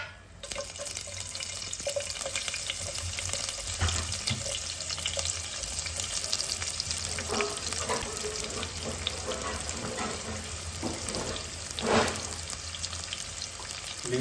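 Chopped onions sizzling steadily in hot oil in a pan for mutton kheema curry, with a loud continuous frying hiss and occasional stirring scrapes throughout.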